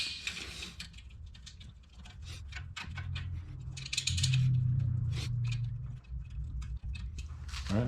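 Bolts being snugged down on the steel frame of a Langmuir Crossfire Pro CNC plasma table, heard as close, steady metallic clicking and ratcheting over a low mechanical hum, with no talking.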